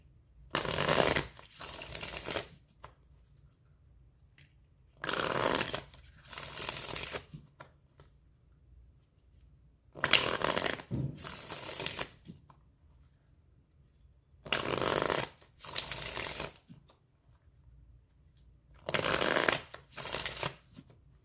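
Tarot cards are shuffled in five separate bursts of riffling and bridging, each lasting about two seconds with quiet pauses between them, close to the microphone and with no talking.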